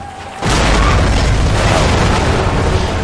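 A bomb goes off in the video game Sleeping Dogs: a sudden loud boom after a brief quiet moment, followed by a sustained roaring rumble that fills the rest.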